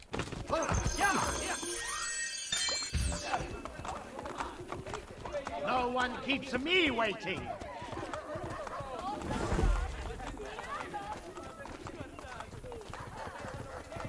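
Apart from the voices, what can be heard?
horse hooves clip-clopping in video game Assassin's Creed Brotherhood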